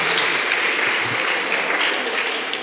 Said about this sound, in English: I want you to please give her a round of applause